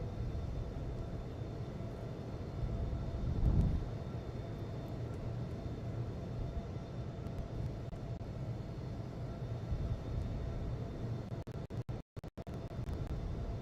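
Airliner jet engines at departure in the Infinite Flight simulator, a steady broadband roar and hum holding constant throughout, with a few brief dropouts near the end.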